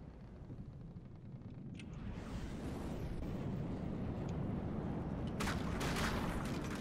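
Frag missiles in the From The Depths naval combat game rush and fire as a building roar, with a few distant pops and a sharper cluster of blasts near the end.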